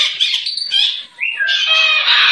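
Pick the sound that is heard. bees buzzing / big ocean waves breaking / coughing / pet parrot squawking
pet parrot squawking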